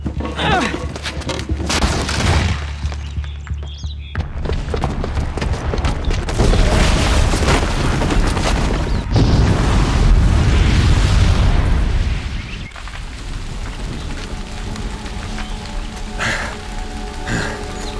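A bomb's booby trap goes off in Horizon Zero Dawn, a sustained loud boom and rumble that swells through the middle and then eases into a lower, settling roar with debris-like crackle, no talk over it.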